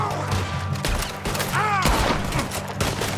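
Cannon fire in Red Dead Redemption 2, several heavy booming blasts in quick succession, loud and close, mixed with crashes and game noise.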